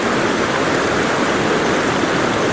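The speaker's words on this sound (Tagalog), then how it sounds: "Itong Gampalit Falls" Dampalit Falls in Los Baños, Laguna pours in a steady, loud broadband roar of falling water, continuous and unbroken with no voices.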